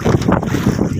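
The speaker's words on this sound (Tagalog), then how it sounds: "Ang lakas ng amihan." Strong amihan monsoon wind roars across an open boat at sea near sunset, a loud, buffeting rush of microphone-battering gusts in short pulsing waves, with no one speaking.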